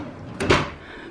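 A junk drawer slides open in one short scraping pull that lasts under a second, close and fairly soft against a quiet room.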